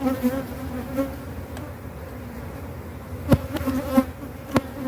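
Honey bees buzz steadily around an open hive during a beekeeping inspection, a dense close-up drone with a few individual bees zipping loudly past the microphone.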